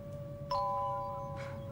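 A two-note doorbell chime rings once in a scene from the TV show Star Cops, the first tone striking clearly and lingering, the second softer. Low room hum sits beneath, with no talking.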